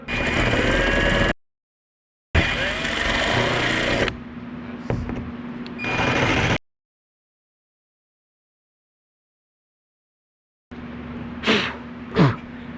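A power drill bores holes into a vehicle roof while a Gladiator roof rack is being installed. Short bursts of close motor whine are separated by stretches of silence, with a few sharp knocks near the end.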